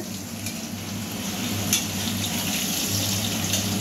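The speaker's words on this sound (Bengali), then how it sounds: "আলুগুলো লাল লাল করে ভাজা হয়ে গেছে" Potatoes frying in hot oil in a pan give a steady, close sizzle with a bubbling crackle that holds evenly throughout, with no voices.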